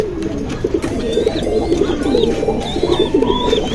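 Silver pigeons cooing close by, with several birds giving continuous overlapping low coos and a few faint higher chirps throughout.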